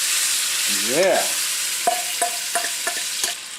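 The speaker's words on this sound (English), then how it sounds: "Look at that sizzle." Marinated chicken hearts sizzle loudly in a hot pan, a steady hiss of frying with a few clicks and scrapes from stirring, and a brief vocal exclamation near the start.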